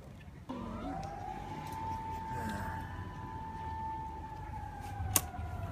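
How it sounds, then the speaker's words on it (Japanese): A siren wails steadily in the distance, rising and falling in pitch against faint background noise. "サイレン鳴ってるよ。"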